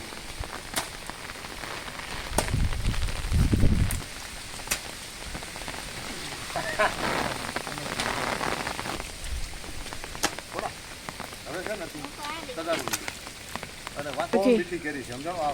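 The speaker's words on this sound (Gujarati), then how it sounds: "લગભગ આ વરસાદ છે" Rain falls steadily on an open farm, a continuous patter with a heavier burst near the start, while people talk intermittently nearby.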